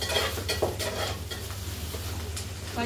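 Green chilies and onions sizzling and frying in a pan, with a steady crackle and occasional stirring scrapes, close and moderately loud.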